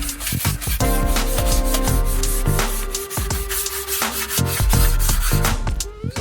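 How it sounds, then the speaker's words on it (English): Stiff brush scrubs dirty exhaust headers on a 2019 Honda CB500X motorcycle in quick, loud back-and-forth strokes, close up and continuous with brief pauses. "This brush here does okay cleaning them. You give them a good scrub."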